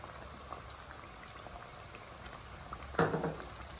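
Chicken pickle masala with chili powder frying in a pan gives a soft, steady sizzle and bubbling up close, with a brief louder spatter near the end.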